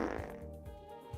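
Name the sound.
fart sound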